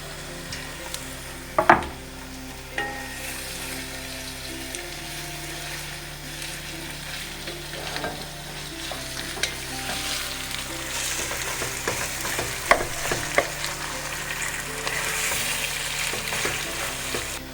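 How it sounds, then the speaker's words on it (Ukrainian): Meat added to onions frying in a pan, a continuous crackling sizzle with occasional sharp clacks of a utensil against the pan, growing slightly fuller over time, close up, no speech. "До цибульки будемо додавати м'ясо."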